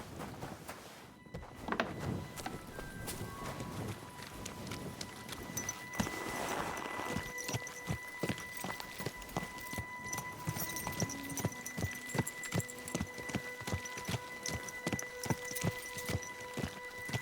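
Horse hooves clip-clop in an even walking rhythm against a faint, steady background hum in the video game Kingdom Come: Deliverance II. The hoofbeats sound moderately close.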